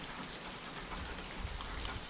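Steady rain falling on a put-out campfire during a North Carolina spring evening, a continuous dense patter heard close by with no voices.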